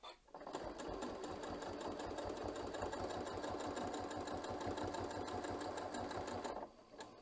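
A sewing machine with an automatic presser foot and pivot feature stitches fabric in one steady run of rapid, even mechanical ticking, close and fairly quiet, stopping cleanly near the end.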